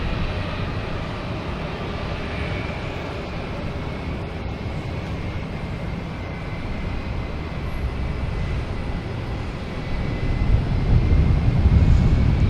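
A JetBlue Airbus A321 at Boston Logan airport produces a broad, continuous engine roar that swells louder toward the end, heard from a distance with no talk.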